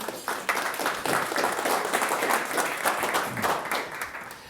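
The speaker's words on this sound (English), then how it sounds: "we'll give them a round of applause to get them going" Audience at a Hitachi Energy sponsored conference session on powering the age of electricity gives the panel speakers a sustained round of applause, a dense steady wash of many hands clapping at close range before fading slightly at the end.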